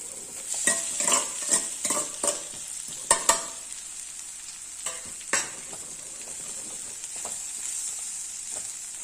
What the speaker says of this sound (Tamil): நல்லா மிக்ஸ் பண்ணி விட்டா நம்மளுடைய குடமிளகாய் சாதம் சூப்பராக ரெடி ஆயிடுச்சு.